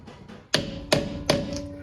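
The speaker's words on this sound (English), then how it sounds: "Now these pins can just go straight back. So we're gonna want a hammer on them." A hammer strikes brake caliper pins back into a quad-piston front caliper on a 2015-2020 GMC Canyon or Chevy Colorado, giving three sharp metallic blows with ringing decay, close and loud.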